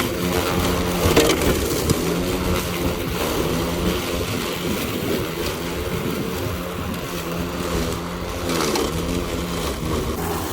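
Mowrator S1 battery-powered, remote-controlled 4WD lawn mower running its cutting blade outdoors, a steady mid-level whirring hum with crunchy chopping bursts as it cuts through grass.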